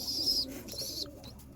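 An Andhra pigeon coos at close range, low soft calls mixed with a few brief high chirps, alone without voices.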